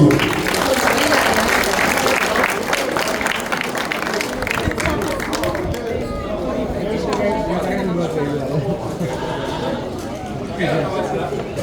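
Audience applause at a goat show prize ceremony in Petit-Canal, a dense patter of many hands clapping for several seconds before easing into crowd chatter and a speaking voice.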